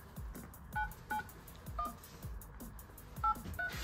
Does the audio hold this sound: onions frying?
no